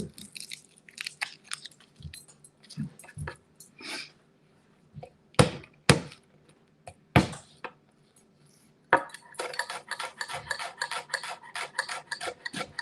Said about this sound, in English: Let's get our garlic peeled and chop it up